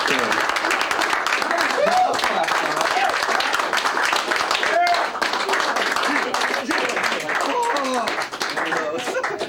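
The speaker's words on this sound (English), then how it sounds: "Could we get a long extended applause just to the audience?" An audience at an acoustic concert gives sustained applause, a thick wash of clapping with scattered cheers and voices mixed in, steady for nearly ten seconds before easing slightly at the end.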